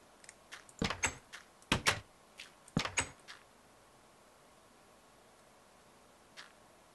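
Glitching door in a German build game opening and closing, a quick run of clacking thunks and clicks in clustered bursts, then a lone faint tick after a pause.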